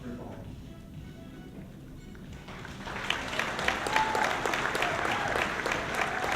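An audience at a scholarship luncheon breaks into applause partway through, a steady clapping that swells and continues to the end after a quieter stretch.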